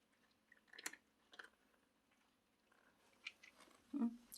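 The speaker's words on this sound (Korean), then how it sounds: "래피 잘 먹네." A stray cat chews food in quiet bursts of faint, soft biting and crunching, close by, with a louder bite near the end and no talk.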